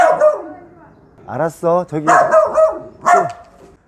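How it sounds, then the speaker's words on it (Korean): A small neighborhood dog in a hillside village in Seoul gives a run of several loud, close barks while a person talks nearby. "꼬리는 흔들면서 왜 짖어?"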